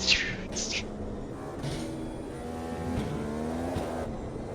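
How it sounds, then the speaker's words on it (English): A racing car in the sim game Automobilista 2, a Gen 1 car at Hockenheim, drones with a steady engine and tonal turbo whine as it shifts and lifts off, with faint high squeals early on. "when you turn down, you hear the turbo"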